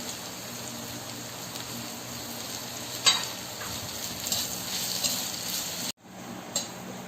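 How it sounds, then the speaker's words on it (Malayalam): Crushed ginger and garlic sautéing in oil with softened onions for a Kerala-style mutton roast give a steady close sizzle, with a brief sharper crackle near the middle and a short cut-out before the frying resumes. "ഇഞ്ചിയും വെളുത്തുള്ളിയും ഒക്കെ നന്നായിട്ട് വഴന്നു വന്നിട്ടുണ്ട്"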